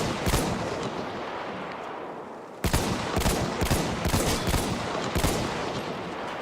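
Loud, close machine gun fire in the Battlefield video game, with rapid bursts of shots that break off briefly and then resume in dense, repeated volleys, with no talk over them.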